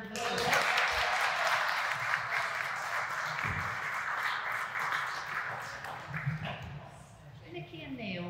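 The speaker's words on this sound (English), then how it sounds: "I think he deserves a round of applause." Applause for Freddie at a wedding ceremony, a steady patter of clapping lasting several seconds, with voices talking over it toward the end.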